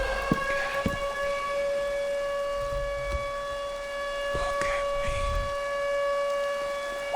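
A civil-defense-style siren wails steadily through a horror video game, holding a sustained tone with harmonics above it while occasional low thumps and game noises sound underneath.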